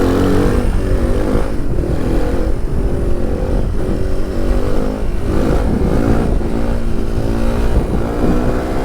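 A DR 350 enduro motorcycle revs on the throttle close by, its loud, rough engine note rising and falling in repeated blips across the whole stretch, with no voices over it.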